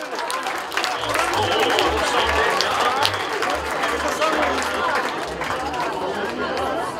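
A festival crowd cheers and claps steadily through a donkey race at an outdoor Hederlez celebration in Ciadir-Lunga, a dense, continuous wash of applause and chatter.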